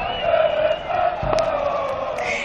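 Spectators at a Quick Boys versus Katwijk football match keep up a steady crowd roar from the stands, a continuous wash of many voices with a brief sharper shout partway through.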